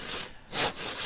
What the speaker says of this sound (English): he's sawing away at his billets here, getting all these billets sorted out